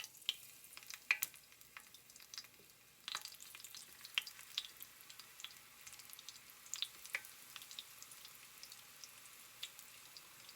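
Homemade onion rings fry in hot oil with a quiet, steady sizzle and scattered sharp crackles and pops, with no voices.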